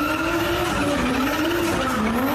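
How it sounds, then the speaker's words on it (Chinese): A car drifts beneath the Tai 61 viaduct, its tires screeching in a loud, sustained wavering squeal over a roaring engine. "轿车在台61线高架桥下大甩尾"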